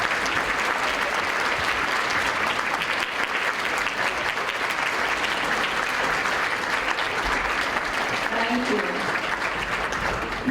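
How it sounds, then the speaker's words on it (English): Sustained applause from a dinner audience at a youth charity's 20th anniversary gala, honoring standing staff and board members; dense, steady clapping fills the room throughout with some faint voices mixed in. "a big round of applause for the people that make it happen."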